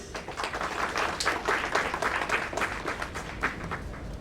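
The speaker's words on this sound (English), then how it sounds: "Ladies and gentlemen, a big round of applause." Audience applause at a memorial lecture as chief guests are led onto the dais, a dense steady burst of clapping from a seated crowd lasting about four seconds at moderate level.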